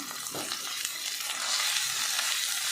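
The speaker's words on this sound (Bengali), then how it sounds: "আমি এখানে চিকেনটা দিয়ে দিলাম।" Chicken breast sizzling loudly in a hot pan as it goes in, a dense steady hiss of frying with faint stirring scrapes and no talking.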